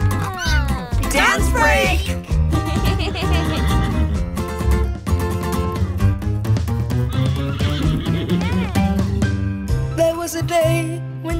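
A voice imitates a horse's neigh, repeated whinnying sounds sung over busy music.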